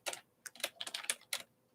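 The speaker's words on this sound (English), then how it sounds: "I can't hear how strongly the mic is picking up on these typing sounds" Bursts of close computer keyboard typing, several quick clusters of key clicks separated by short pauses, crisp and fairly light, with no talking over them.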